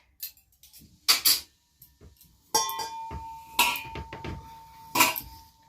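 Brass and bronze bowls, small spoons and plates handled one after another, giving several bright metallic clinks and taps with a faint ringing tail, close by and without talk.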